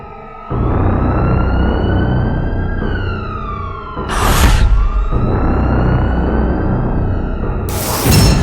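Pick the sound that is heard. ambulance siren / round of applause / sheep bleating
ambulance siren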